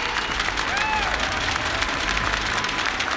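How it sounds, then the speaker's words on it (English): A large crowd applauds loudly and continuously at an esports tournament final, with scattered cheers and whistles mixed into the clapping. "Give yourselves a round of applause and please join them."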